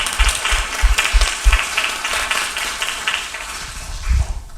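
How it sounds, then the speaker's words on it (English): Audience applause at an academic panel event on Black researchers, a steady patter of many hands clapping that fills the whole stretch at moderate loudness, with no talking over it. "applaud the team"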